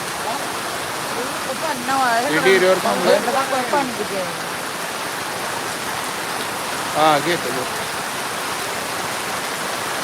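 Steady heavy cloudburst-like rain roars throughout as a broad wash of noise in a village, with someone speaking briefly over it at a couple of moments.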